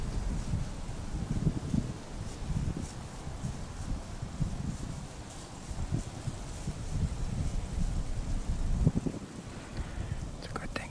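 Gusty wind buffets the microphone in a steady low rumble for the whole stretch during a deer hunt, with a faint hushed voice murmuring beneath it.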